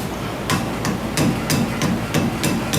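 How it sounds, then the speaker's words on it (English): A small sledgehammer taps the cap off a brake rotor on a 2003 Mazda B2300 Ranger: seven or so sharp metallic knocks at a steady, unhurried pace, close and loud. "Now we're just going to take a little sledgehammer and tap this little cap off"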